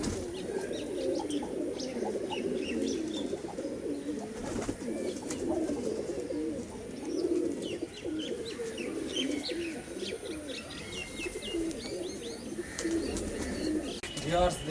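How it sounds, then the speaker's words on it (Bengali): A male and female pair of imported Madrasi pigeons coo softly and repeatedly at close range, with faint chirps and background voices underneath. "এই যে এটা নর পায়রা, এটা মাদি পায়রা, পাঞ্জাব মালবাহী।"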